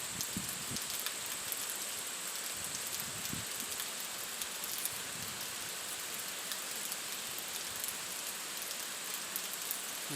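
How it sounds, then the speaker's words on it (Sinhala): Steady rain drums on a raised hut out in a paddy field, a dense even hiss that holds throughout with a few louder drops knocking close by, and nobody speaks. "වැස්ස එනවා"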